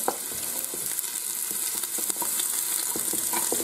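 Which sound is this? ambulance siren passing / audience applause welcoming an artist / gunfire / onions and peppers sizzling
onions and peppers sizzling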